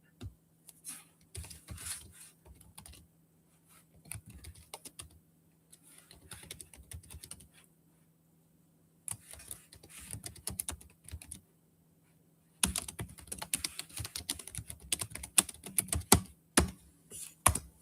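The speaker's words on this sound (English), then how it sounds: "Here, let me type it in the chat." Typing on a computer keyboard in bursts of rapid key clicks separated by pauses, close and clear, with no talking.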